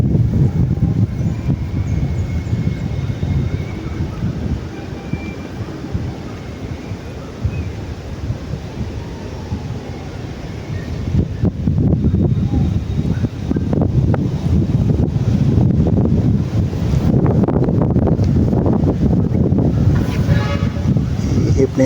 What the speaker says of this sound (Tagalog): Ihip ni hangin guys.